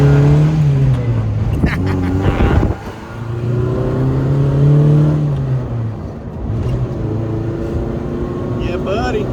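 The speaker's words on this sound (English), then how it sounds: "You ready for a test drive" A Suzuki Samurai fitted with a rear TRE E locker drives on a test run, its engine humming and revving steadily up close while people talk over it inside the vehicle.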